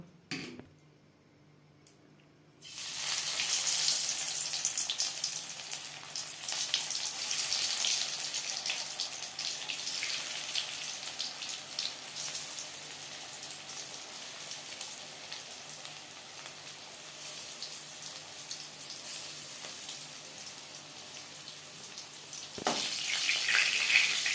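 Onion rings fry in hot refined oil with a steady, bright sizzle that starts abruptly after a quiet moment and runs continuously, swelling slightly again near the end.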